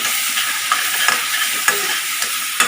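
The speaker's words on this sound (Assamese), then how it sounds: "এইখিনি মানে অকণমান ভাজিব লাগিব, নহ'লে আদা নহৰু এই কেঁচা গোন্ধটো থাকি যাব।" Ginger garlic paste frying in a pan makes a loud, dense sizzle, close up, with faint stirring clicks scattered through it.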